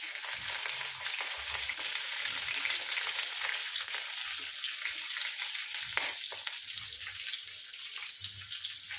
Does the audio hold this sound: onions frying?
yes